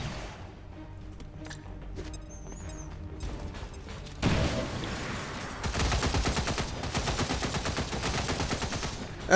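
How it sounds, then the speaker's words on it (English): XCOM 2 battle with a grenade blast followed by sustained rapid gunfire, loud and dense bursts of automatic shots that run steadily to the end after a quieter stretch of game ambience. "Let's just see what happens with this grenade."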